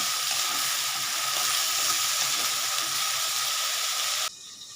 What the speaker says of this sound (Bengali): এবার এটা আস্তে আস্তে ভাজা হতে থাকে